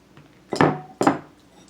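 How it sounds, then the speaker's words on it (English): A spoon scoops avocado flesh out of its skin, giving two distinct scraping strokes close up, followed by a brief light clink. "just dish it out with a spoon"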